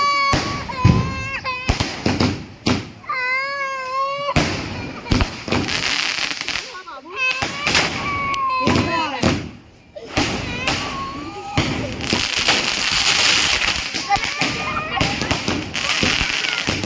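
Firecrackers bursting during Diwali celebrations: repeated sharp bangs and crackling pops, some close and loud, mixed with a child crying and people talking throughout.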